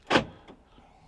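A Swift motorhome fitted with Richter security upgrades is locked, giving a single short whirring actuator burst followed by a fainter mechanical clunk, nearby and quiet.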